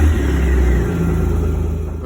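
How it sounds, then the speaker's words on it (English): Kawasaki Mule Pro FXT engine idling steadily during a coolant change, a close, continuous low rumble with a slight pulsing rhythm and no talking over it. "Next, we're going to start the engine until the coolant fan turns on."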